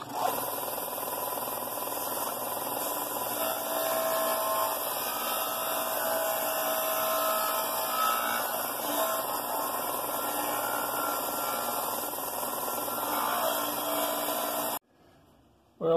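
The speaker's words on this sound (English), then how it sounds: "my belt sander here, a disc sander, I'm sorry, to round these corners and get this edge off" A disc sander steadily grinds and rounds the corners of a cut wooden piece. The droning hum runs loud and unbroken, then stops abruptly near the end.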